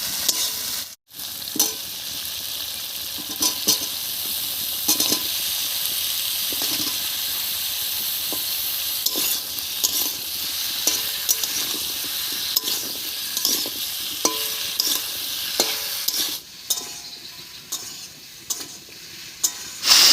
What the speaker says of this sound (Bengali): এবার এর মধ্যে কেটে রাখা মুলোগুলো দেবে